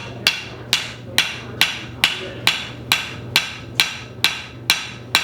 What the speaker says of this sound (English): Right now I'm using the edge of my hammer